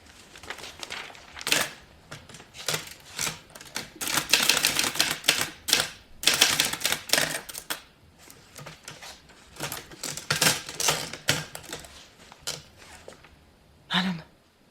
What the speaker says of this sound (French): les machines à écrire portatives sont très répandues